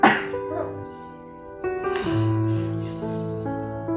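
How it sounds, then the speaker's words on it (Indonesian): A single harsh cough bursts out at the start, followed by voiced murmuring and throaty sounds over a sustained tonal background. "Ieu mah batuk biasa"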